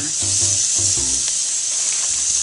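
Marinated pork sizzles loudly on a medium-to-hot grill in a steady hiss, with a few low thumps from the meat being laid down near the start.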